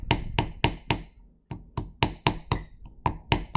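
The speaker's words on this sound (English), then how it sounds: "I'm going to go ahead and start with my riveting hammer." A small riveting hammer taps a metal teardrop pendant in sharp, close metallic strikes, about a dozen evenly spaced blows with one brief pause.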